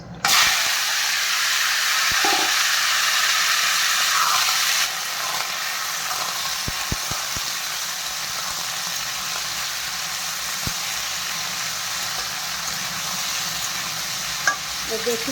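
Pumpkin hits a hot pan with a loud, dense sizzle that settles after a few seconds into a steady frying hiss, punctuated by light scattered clicks of a stirring utensil, close up.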